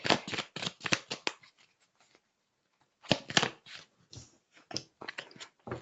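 Tarot cards riffle and slap in rapid bursts of shuffling, then pause before another run of quick shuffles and soft card taps, close and crisp with no talk.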